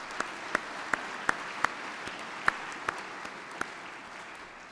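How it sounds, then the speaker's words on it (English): At a junior college spring graduation ceremony, about ten sharp, separate hand claps ring out at an uneven pace against a quiet room, sounding faint and thin. "So let's give them a round of applause."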